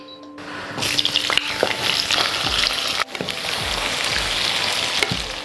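Halved curly chillies, bird's eye chillies and crushed shallots fry in hot oil for dendeng batokok balado, with a loud, steady crackling sizzle and occasional clinks of a utensil against the pan.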